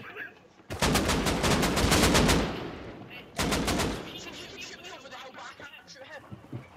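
Gunfire in Rust Console Edition, loud near bursts of rapid automatic shots in two stretches, the first longer, with excited voices talking between and after.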